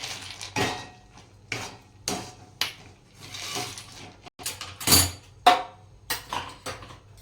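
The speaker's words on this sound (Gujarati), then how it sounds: "તો દાણા નાખી દઈએ અંદર." Peanuts tipped into a pan of hot jaggery for Gujarati peanut chikki, then stirred with a spoon: a run of sharp, close scraping clicks and knocks against the metal pan in an uneven rhythm, with no one talking.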